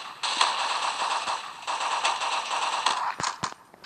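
Rapid automatic gunfire from a gun in the video game Special Force, loud, dense bursts of shots nearly continuous for several seconds, ending in a few separate sharp cracks.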